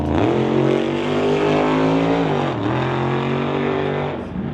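A drag race car on a limited street strip roars as it accelerates, with a loud sustained engine note climbing in pitch, a brief dip as the pedal is lifted, then building again, heard close with no talk.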